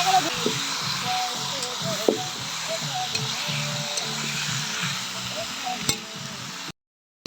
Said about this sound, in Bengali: আমাদের মাংস কষানো হয়ে গেছে।